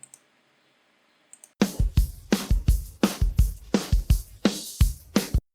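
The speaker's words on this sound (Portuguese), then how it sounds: "E aí eu posso, por exemplo, ouvir só a bateria." After a brief silence, a solo drum kit kicks in with punchy kick and snare hits and crashing cymbals in a steady rock beat.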